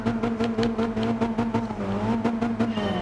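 A 2009 Alfa Romeo MiTo 1.4 Turbo Sport in the Gran Turismo Sport racing game drones at steady high revs, with a continuous engine tone and faint rhythmic pulsing throughout.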